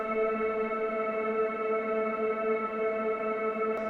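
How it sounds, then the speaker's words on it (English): A frozen reverb tail resampled into a sustained drone pad for melodic house, holding steady layered tones at an even, quiet level with no attack or decay across its length. "Once the reverb is playing, I click freeze."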